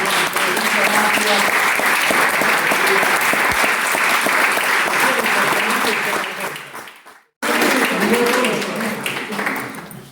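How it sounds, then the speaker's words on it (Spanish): Loud applause from a crowd fills the room, briefly cutting out near the end before the clapping resumes just as strongly. "Les pido un fuerte aplauso"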